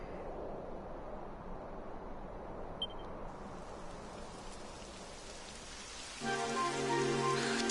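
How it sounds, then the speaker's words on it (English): Steady rain falling in the Dragon Quest 11 video game, a soft continuous hiss of droplets with a brighter chime-like tone entering near the end, no speech. "It would have to go and start raining, wouldn't it?"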